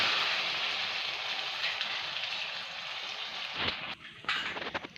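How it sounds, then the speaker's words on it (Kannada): A paste of tomato, garlic and ginger fries in a pan, giving a soft, steady sizzling hiss that thins out toward the end, broken by a few light scrapes. "ಈ ಟೊಮೆಟೊ ಪ್ಯೂರಿ ಏನಿದೆ ಸ್ವಲ್ಪ ಹಸಿ ಸ್ಮೆಲ್ ಹೋಗೋ ತನಕ ಚೆನ್ನಾಗಿ ಫ್ರೈ ಮಾಡ್ಕೊಳ್ಳೋಣ"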